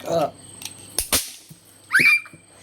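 Diwali firecrackers go off in a few sharp cracks, with one loud double bang near the middle and a brief whistling burst toward the end, while a voice speaks at the start.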